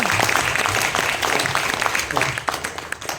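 An audience at a Hindi poetry recital (kavi sammelan) applauds, a dense, loud burst of clapping that fills the whole moment with a few voices mixed in.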